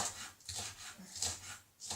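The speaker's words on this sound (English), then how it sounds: "Next door's dog's howling, they're obviously out." A neighbour's dog left alone next door whines and whimpers in short repeated cries, faint and distant, several quick yelps in succession.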